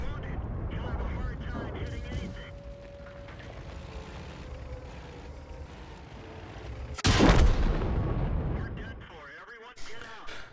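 A single heavy tank-gun blast from a Type 3 Chi Nu in World of Tanks rings out midway, a loud boom over rumbling engine noise and game sounds, while someone talks.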